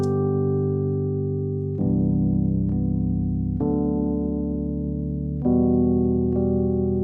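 Sustained Rhodes electric piano chords ring out one after another, each struck softly and held, with a warm, bell-like tone and slow changes.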